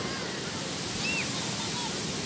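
Rough, churning ocean surf at a beach at Sitio Liwliwa, San Felipe, Zambales, heard as a steady broadband wash of breaking waves with a faint trace of voice mixed in.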